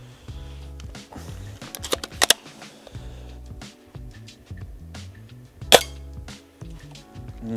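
A sniper rifle fires at an uncharged LiPo battery. Two sharp, separate cracks stand out above scattered light clatter and handling noise, with no talk.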